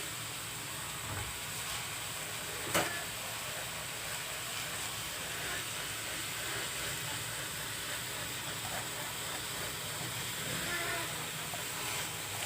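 Chopped onion hits a hot pan of frying bottle gourd and sizzles. A steady, broad hiss runs the whole time, with a single sharp click early on.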